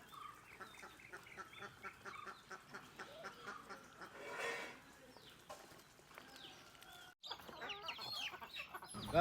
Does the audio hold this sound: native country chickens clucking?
yes